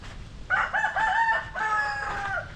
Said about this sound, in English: You hear that rooster?